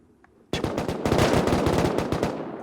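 Automatic gunfire in the video game Rust: after a brief quiet moment, a loud, rapid burst of shots fires in a steady stream for about two seconds, close and dominant with no talking.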